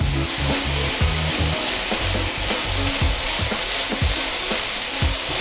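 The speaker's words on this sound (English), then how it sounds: "we just keep stirring it and make sure it's cooked all the way through" Chicken fajitas fry in a pan with a loud, continuous sizzle, and a spatula stirs and scrapes in repeated rhythmic strokes.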